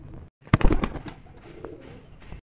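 Pigeons coo close by, a short burst of soft throaty calls with a flutter of wings near the start, then quieter murmuring cooing until it fades.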